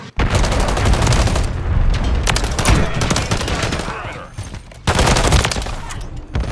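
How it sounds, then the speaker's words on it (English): Dense, loud bursts of heavy gunfire and booming impacts from a cruise missile strike in Call of Duty: Modern Warfare 3 ranked play. They roar almost continuously, dip briefly around the middle, then surge again. "Hostile cruise missile incoming."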